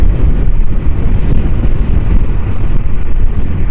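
Strong wind roars steadily into the microphone, a dense low rumble with no letup for the whole stretch.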